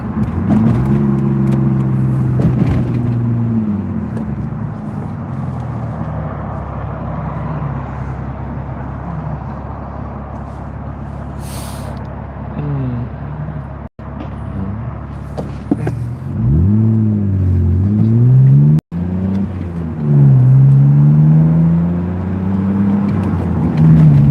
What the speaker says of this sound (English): Car sounds good though.